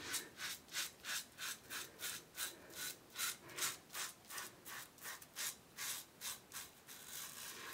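A safety razor scrapes across skin at a steep blade angle, giving close, faint, rasping strokes in a steady rhythm of about two or three per second, with no talking.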